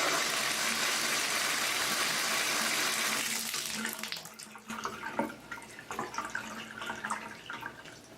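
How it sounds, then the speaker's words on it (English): Shower water pours into a Moen bathtub and drains after a hair clog is cleared, a loud steady hiss of spray that shifts to a splashier, uneven running and gurgling flow. "We're going to turn the water on and see how the drain clears."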